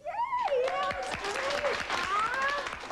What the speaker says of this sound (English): They applaud his effort as they would that of any other child